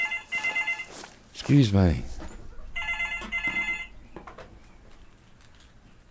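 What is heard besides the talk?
telephone ringing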